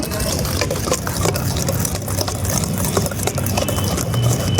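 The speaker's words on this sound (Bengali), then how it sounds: "তেল রাখবো তেলটা দিয়ে ভালো করে ফাটিয়ে নিচ্ছি" Fruit cake batter beaten hard with oil in a bowl: a continuous, fairly loud churning and whisking texture with repeated rhythmic strokes, close up, no talk.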